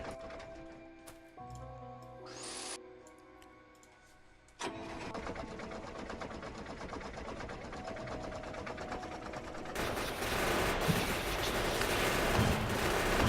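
Rapid mechanical gunfire from a tank in the game Factorio, firing on enemy nests, builds into a dense, continuous rattling stream with engine-like droning, growing louder and harsher toward the end, with no talking.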